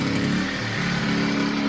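Generac 1200-watt portable inverter generator running steadily up close, a continuous even engine drone with a slight dip in pitch partway through, loud and alone.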